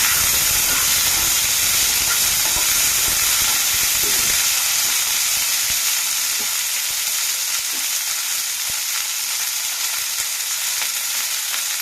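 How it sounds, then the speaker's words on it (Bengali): Yardlong beans fry in hot oil in a wok with a steady, loud, broadband sizzle that holds throughout, with faint scrapes of stirring now and then. "তেলটা গরম হয়ে গেছে এবার আমি বরবটি কড়াইটা ভাজতে দিয়ে দেবো"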